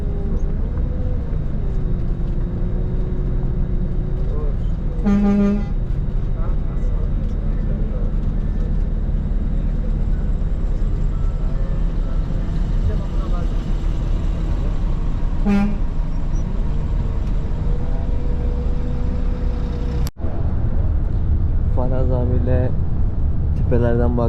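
A large, busy bus terminal in Urmia, Iran carries a constant engine rumble, with a few short horn toots ringing out now and then and people talking nearby.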